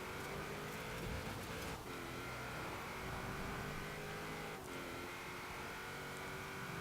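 A 2004 Vauxhall VX220 Turbo accelerates hard in the racing game Forza Horizon 4, its engine note droning steadily and rising through the gears, loud and close with brief shift dips and no talk.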